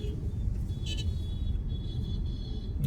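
Dense road traffic in Coimbatore, India rumbles continuously nearby, with a short car horn toot cutting through the din.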